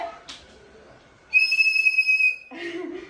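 A small fish-shaped whistle gives one sustained, steady shrill blast lasting about a second, loud and close, with faint background noise before and muffled sound after.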